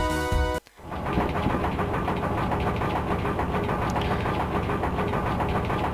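An airship engine from the Final Fantasy 9 video game drones as a steady, dense mechanical hum with a rhythmic chugging texture, starting after a brief cut and holding constant and loud with no talking.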